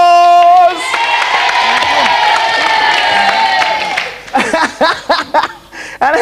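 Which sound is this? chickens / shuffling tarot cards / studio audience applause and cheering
studio audience applause and cheering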